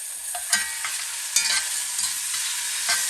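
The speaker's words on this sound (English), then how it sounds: "Let me mix this up for about a minute or two, maybe a minute." Chopped collard greens stirred in a pan with a light sizzle, a few sharper scraping strokes standing out among steady stirring sounds, close up and with no talking.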